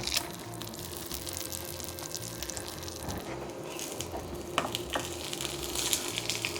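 A burger sizzles and spits in a pan of clarified butter, a dense, steady frying hiss at close range with occasional sharper pops and spatters throughout, no voices.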